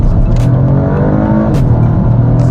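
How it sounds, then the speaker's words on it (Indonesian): BMW 218 Gran Coupe with a 1500 cc three-cylinder engine in sport mode, revving loudly and close up after a downshift, with sharp exhaust pops and crackles breaking through the steady engine drone. "Terus ada kayak pops and crackles juga di belakang."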